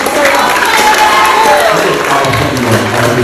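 A crowd applauds and cheers in a dense, steady wash of clapping, with some voices mixed in throughout.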